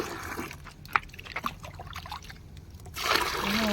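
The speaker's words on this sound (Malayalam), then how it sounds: "ഈ 2 മഗ്ഗ് എടുത്ത് കഴിഞ്ഞാൽ ഇതിൽ നിറയെ വെള്ളം എടുക്കും ഞാൻ." Rainwater stored in a drum is scooped and poured with a mug for a terrace garden, giving soft sloshing and trickling with a louder splash of pouring near the end.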